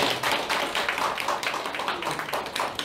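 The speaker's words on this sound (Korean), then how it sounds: "박수로 한번" Clapping from an audience at a Korean political party meeting in Daegu, a steady patter of many hands throughout, fairly close and loud.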